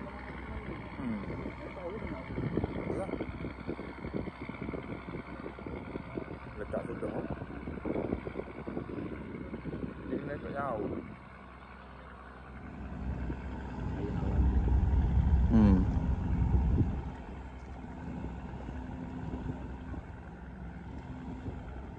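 A fishing boat's motor at Kuala Terengganu runs close by as a steady low engine drone with water and wind noise, swelling louder for a few seconds midway; people talk over it.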